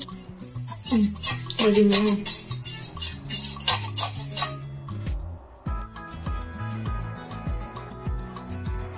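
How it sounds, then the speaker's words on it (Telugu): A spoon stirs homemade baby food in a pot, scraping and clinking against the metal in a steady, close, moderately loud rhythm, with no talking. "మనం ఇలా స్టర్ చేస్తూనే ఉండాలి, కలుపుతూనే ఉండాలి."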